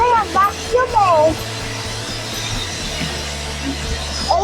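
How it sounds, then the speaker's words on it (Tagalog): Inside a Kia Sonet LX AT during a car wash, a vacuum cleaner runs steadily while it cleans the cabin, a close, continuous drone that starts under brief speech. "Vacuum eh."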